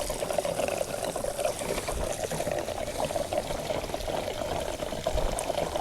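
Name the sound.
gasoline being poured into a Mazda 6 fuel tank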